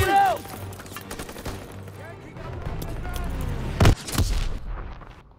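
Grenade explosion in the World War II shooter Call of Duty: WWII, a loud sharp blast near four seconds followed by rumbling, set among scattered gunfire and shouting soldiers.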